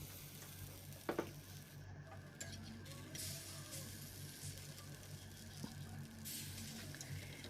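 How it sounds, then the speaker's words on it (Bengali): Small pancakes sizzle steadily in a hot pan, a continuous close frying hiss broken by a couple of brief utensil clinks early on, with no voices. "ওর জন্য বলে ছোট ছোট করে প্যানকেক বানাচ্ছি"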